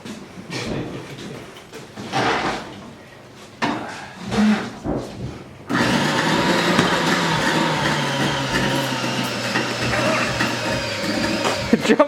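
After a few short, uneven mechanical bursts, a dying vacuum cleaner starts up and runs with a loud, steady whining drone, close by.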